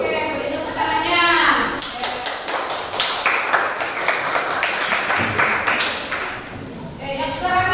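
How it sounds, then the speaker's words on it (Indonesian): Classroom applause after a group presentation, a dense burst of many hands clapping quickly and unevenly, swelling then thinning out, with voices faintly mixed in. "Oke, beri tepuk tangannya."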